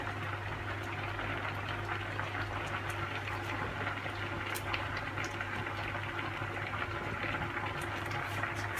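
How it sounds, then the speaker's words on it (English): A pot of rice boils and foams on the stove, giving a steady, continuous bubbling hiss with a low hum beneath, no one speaking. "So let's check on the pot. So it's foaming up"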